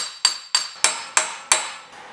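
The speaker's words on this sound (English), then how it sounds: "Just gives you a duller thud when you hit the hammer on it." A hammer drives a 22 mm socket onto a Jeep CJ7 axle hub five times in a steady rhythm, each blow a sharp, ringing clank that decays quickly.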